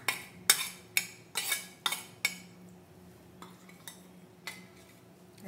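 A spoon stirs roasted sesame seeds, cashews and raisins into a sweetened aval mixture in a pan, making a series of sharp, close metallic clinks and scrapes in an irregular rhythm over quiet surroundings.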